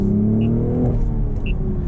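A 2025 BMW Z4 M40i with manual transmission, top down, blips its engine on its own to match revs during a downshift, a close, loud, steady rumble with a brief rise in pitch midway and no talking.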